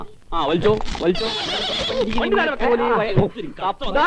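A horse whinnies in a film scene with a horse cart, the neigh rising loud and close between excited comic voices.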